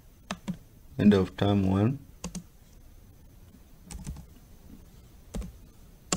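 Rapid clicking of computer keyboard keys comes in short bursts between pauses, with a stretch of speech in the middle.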